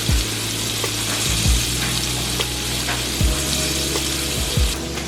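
Steak frying in a pan, a loud, continuous close sizzle with occasional soft clicks and a low droning hum beneath, no voices.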